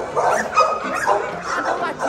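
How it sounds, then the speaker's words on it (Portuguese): A small dog at an animal shelter gives a string of thin, high-pitched yipping barks, close and fairly loud, with other faint voices in the room. "Olha o latido dele. Olha o latido fininho."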